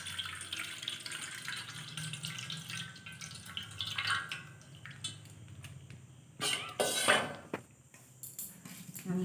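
Something is washed in water at a sink, with running and splashing water, clinks of utensils and dishes, and a louder burst of pouring or splashing near the end.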